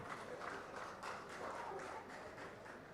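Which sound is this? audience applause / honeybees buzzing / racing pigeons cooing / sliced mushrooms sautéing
audience applause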